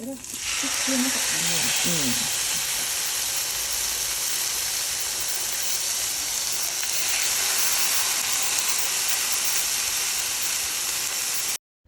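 Wagyu beef steaks sizzle steadily in a hot pan, a loud, continuous frying hiss that holds for the whole stretch, with a brief voice near the start.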